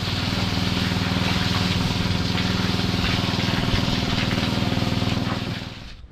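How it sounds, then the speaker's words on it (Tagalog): A small engine on a farm runs steadily right after starting, a loud, close, throbbing putter with a fast regular pulse that holds for several seconds before tapering off. "Tayin muna natin yung makina."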